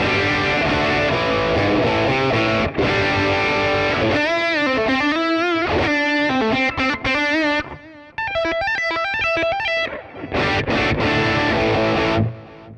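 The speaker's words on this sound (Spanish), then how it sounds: "Listo, aquí emula una distorsión de voz." Overdriven electric guitar runs through a distortion model on a Nux MG300 multi-effects unit, with loud chugging chords giving way to quick melodic single-note runs and bends, briefly breaking, then returning with hard-hit chords.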